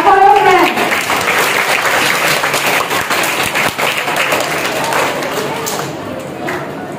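Young students and their audience clap loudly and steadily at a school prize distribution for classes one to three, a dense roomful of hands with children's voices audible beneath it.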